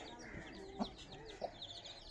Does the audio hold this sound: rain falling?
no